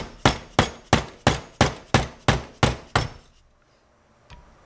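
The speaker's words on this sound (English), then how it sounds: "now we're going to hammer down on this" A hammer strikes a KTM steering damper clamped in a vise, with nine sharp, evenly spaced metallic blows in quick rhythm, followed by a pause and one faint knock.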